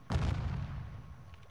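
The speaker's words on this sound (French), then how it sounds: "Par rapport au son des tirs." Gunfire in the video game Call of Duty Modern Warfare II, a single booming shot that cracks sharply and then fades into a short rumbling tail, fairly quiet and distant.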